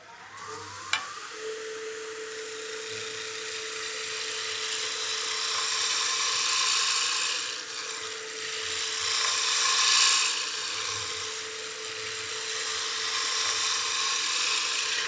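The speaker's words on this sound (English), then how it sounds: "and then we can start sanding" Sandpaper rubbing a spinning wooden baseball bat blank on a wood lathe, a steady close hiss with the lathe's whine running beneath, swelling and easing as pressure changes over the long pass.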